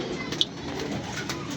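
A domestic pigeon coos softly, close by, in a short faint call over low background noise.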